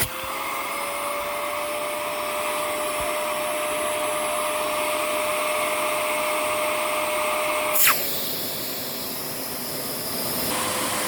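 A Miele S7 Bolero vacuum cleaner runs during a suction test, giving a loud, steady close-up whine and rush of air. The tone shifts abruptly near the end as the airflow changes.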